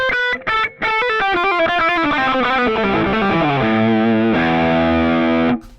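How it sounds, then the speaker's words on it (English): Electric guitar with a high-output Cloud 9 humbucker through a curly crunch drive tone on ToneX, playing a descending run of chords that ends on a sustained ringing chord before cutting off. "curly crunch drive"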